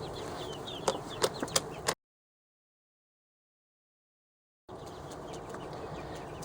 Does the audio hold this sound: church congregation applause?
no